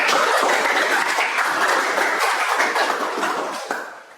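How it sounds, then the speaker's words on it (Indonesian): A classroom group claps steadily after a group presentation, a dense wash of applause that holds for several seconds and then begins to fade. "kita tepuk tangan dulu"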